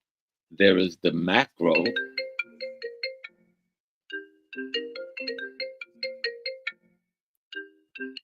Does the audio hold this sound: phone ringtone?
yes